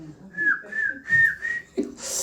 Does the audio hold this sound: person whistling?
yes